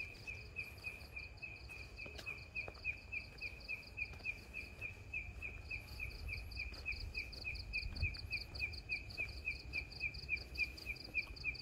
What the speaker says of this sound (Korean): 개구리 소리 겁나게 막 시끄럽네.